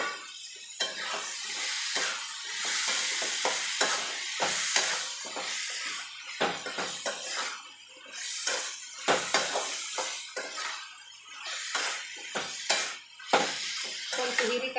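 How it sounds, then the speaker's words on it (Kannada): Ridge gourd frying in a pan, with soft sizzling broken by repeated scraping and stirring clatter at an uneven pace, fairly quiet and close. "ಇದನ್ನು ಫ್ರೈ ಮಾಡ್ತೀನಿ ಹೀರಿಕಾಯಿ ಇದ್ರಾಗನ"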